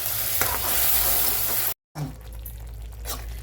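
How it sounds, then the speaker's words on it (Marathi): Curry masala sautéed in oil in a pan for a paneer curry, a steady close sizzle with light stirring scrapes, cut by a brief silent gap before the frying resumes. "अशा पद्धतीने आपल्याला हा मसाला तेल सुटेपर्यंत परतून घ्यायचा आहे"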